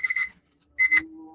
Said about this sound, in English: That's basically my alarm.